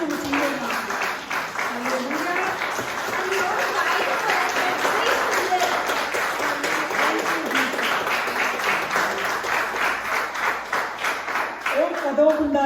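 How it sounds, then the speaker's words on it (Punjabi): A church congregation claps loudly in a long, sustained burst of applause, dense and even throughout, while a voice carries on over the clapping. "ਇੱਕ ਵਾਰ ਜ਼ੋਰਦਾਰ ਤਾੜੀਆਂ ਯਿਸੂ ਮਸੀਹ ਦੇ ਨਾਮ ਤੇ"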